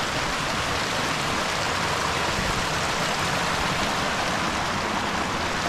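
A cold mountain stream rushes steadily nearby, a dense continuous wash of flowing water with no voices over it.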